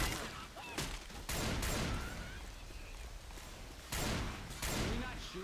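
Gunfire hits a player in Left 4 Dead 2, heard as several sharp, loud bursts of shots with muffled game noise and some voices between them.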